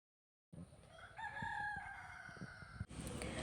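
A rooster crows loudly in one long, drawn-out call, with a flock of chickens clucking nearby as they settle to roost in a tamarind tree at dusk.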